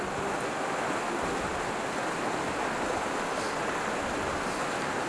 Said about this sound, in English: We're at the base of the waterfall and it looks absolutely beautiful.